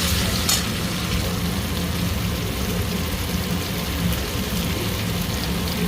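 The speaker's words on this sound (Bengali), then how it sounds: "এতে পেঁয়াজ আদা রসুনের পেস্টের সাথে টমেটোটা ভাজা হয়ে যাবে" Tomato fries with onion and ginger-garlic paste for a wild bitter gourd and potato dish, making a dense, even crackling hiss like rain that holds steady at moderate volume without speech.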